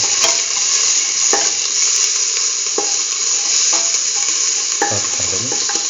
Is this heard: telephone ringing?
no